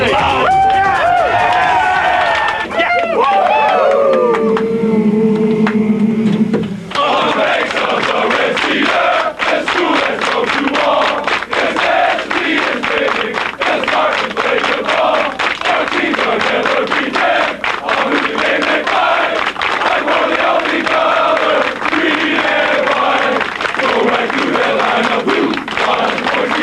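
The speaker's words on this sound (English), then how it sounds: "The excited sounds of a triumphant Michigan State locker" The Michigan State football team cheers loudly in the locker room after a win over Ohio State, filling it with whoops, shouts and chanting. Clapping and overlapping voices come through close up and keep going the whole time.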